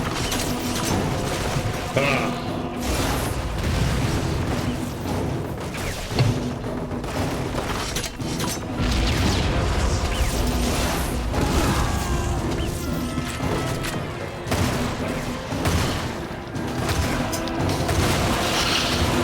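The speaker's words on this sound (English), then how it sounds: "Prepare to die by rocket" Rocket explosions and heavy combat in the video game Lost Planet, dense booming blasts and crashes rumbling continuously under casual talk from players.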